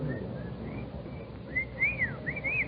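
Faint, short rising and falling whistles repeat over low background rumble, growing a little louder toward the end.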